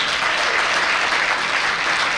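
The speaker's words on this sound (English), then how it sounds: "So good, give them another round of applause." An audience at a school band winter concert applauds, dense sustained clapping from many hands filling the hall at full volume without a break.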